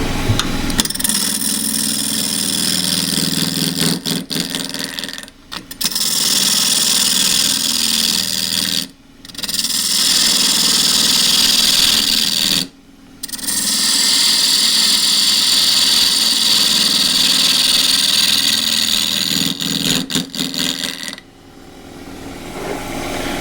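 A gidgee bowl spins on a wood lathe while a spindle gouge cuts and shapes it, giving a loud, rough scraping rasp over the motor's hum, broken by a few brief pauses between passes.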